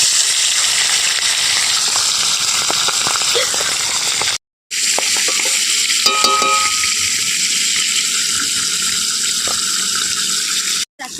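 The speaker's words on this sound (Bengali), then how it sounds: "মাছটা ডিমওয়ালা বলে সেজন্য খুব তেল ছিটকাচ্ছে" Rohu fish heads, full of roe, frying in hot mustard oil in a kadai, with loud, continuous close-up sizzling and crackling spatter, broken by two brief silent gaps.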